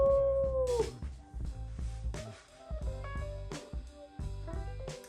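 Young puppies howling in thin, wavering high-pitched cries, several overlapping howls and yips close by, with faint human imitation-like howling mixed in.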